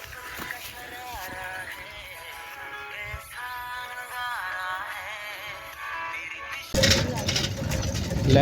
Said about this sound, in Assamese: এয়া চব বনৰীয়া চৰাই